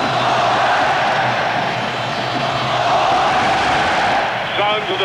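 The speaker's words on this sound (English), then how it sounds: "Sounds of the bull ring now from a crowd." A stadium crowd at the 1986 World Cup match between Spain and Scotland roars in a dense, continuous wall of noise, with a commentator's voice speaking over the din.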